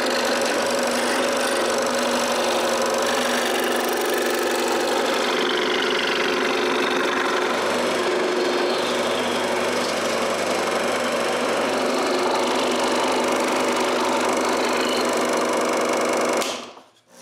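A power tool runs continuously while cutting a wooden profile for a fishing rod rack, a steady loud whine with a gritty edge that holds for about sixteen seconds and then cuts off abruptly.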